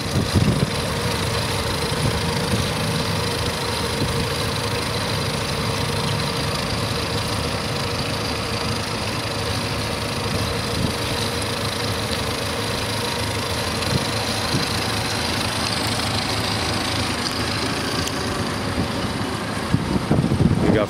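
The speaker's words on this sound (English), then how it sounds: "Twin 130 Honda, four strokes," Twin Honda 130 four-stroke outboard engines idle steadily on a boat, a continuous low rumbling hum with broadband wash that holds even throughout, no talking heard.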